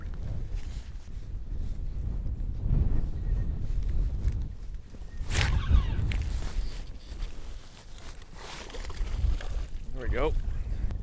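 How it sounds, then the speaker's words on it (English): Wind gusts roar steadily across open water around a fishing kayak on a reservoir, a loud broadband rush with microphone buffeting that swells and fades, while someone talks intermittently over it. "Dang, man, this wind."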